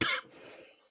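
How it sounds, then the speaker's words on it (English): A single sharp cough bursts out close and loud at a post-race interview after a Pocono Raceway motorsports win, then fades into quiet room tone. "wrong time for a cough"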